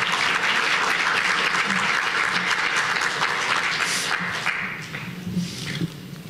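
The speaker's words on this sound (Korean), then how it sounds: "총장님 모실 때 박수로 환영해 주시기 바랍니다" Sustained audience applause welcoming the new university president at an inauguration worship service of Soongsil Cyber University, dense and steady for several seconds before thinning slightly toward the end.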